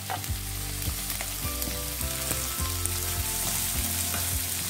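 Onion and green chilies frying in hot oil, a dense, constant sizzle with scraping stirring strokes repeating at a steady pace, close and fairly loud.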